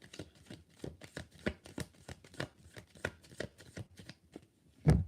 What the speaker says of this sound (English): Let's shuffle it one more time